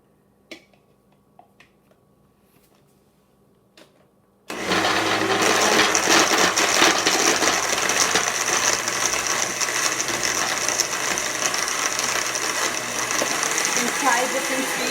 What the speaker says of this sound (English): Try different speeds so it can blend it nicely, so it's consistently smooth.